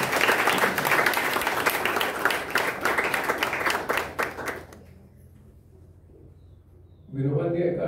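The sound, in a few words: audience applause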